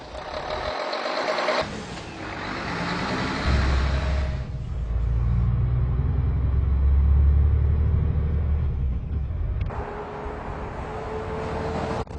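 A Mercedes-Benz Actros truck pulls away and accelerates, its deep diesel rumble building and swelling for several seconds. Higher mechanical tones and whines are heard at the start and end, with no talk over it.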